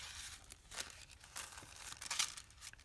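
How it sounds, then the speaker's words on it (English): Paper crinkling and rustling while journal pages are assembled by hand, a series of close, crisp crackles and short tearing-like bursts at uneven intervals, fairly quiet. "Noisy paper."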